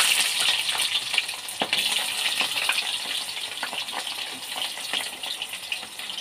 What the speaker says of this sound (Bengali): এগুলোকে এখন একটু ভালো করে ভাজবো আমি।